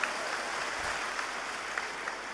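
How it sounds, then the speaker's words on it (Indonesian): Steady applause from a seminar audience, dense and continuous throughout, clapping for a group of women on stage. "Tepuk tangan untuk ibu-ibu hebat ini."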